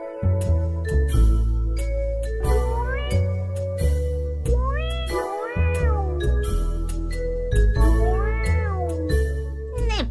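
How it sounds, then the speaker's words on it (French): A cat meowing in a children's story about a mouse, with repeated drawn-out, rising and falling meows set over steady musical backing and light tinkling, loud and close throughout. "Un chat."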